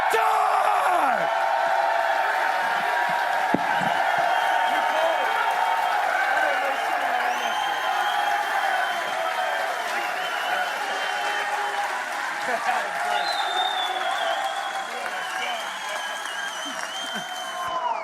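A wrestling arena crowd cheers and applauds loudly and continuously, with whoops and yells rising out of the roar, while a voice speaks over the noise.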